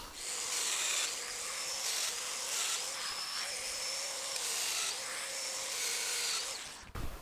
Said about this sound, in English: I've got the Festool domino set for my 3/4 inch rail stock. I'm going to cut those 4 mortises right now.